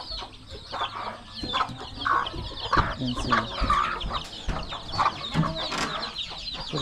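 Chickens cluck and chatter close by in a rural Philippine yard, a busy overlapping mix of clucks and squawks, with a person speaking briefly among them.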